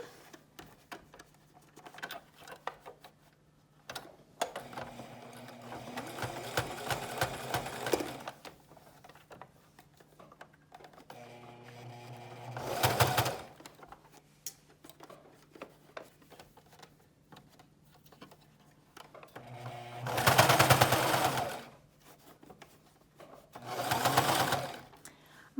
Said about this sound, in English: this sewing machine has a hard time with the thicker fabrics